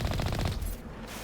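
In the Mass Effect video game, a weapon cannon fires a rapid burst of loud, punchy shots for about half a second, then falls quiet.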